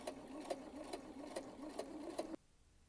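A sewing machine runs steadily while top stitching fabric for baby booties close to a finished edge, a continuous mechanical whir with regular clicks before stopping abruptly near the end.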